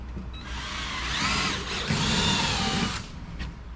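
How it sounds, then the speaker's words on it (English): Power drill pre-drilling holes into a wooden lock box, a steady whirring bore of about two and a half seconds that swells and dips as the bit cuts, close and fairly loud with no talking. "Just pre-drill. Pre-drill the holes."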